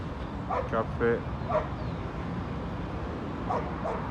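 Dogs play together outdoors, letting out several short barks and yips in quick bursts early on and again near the end, over steady background noise, with people talking at times.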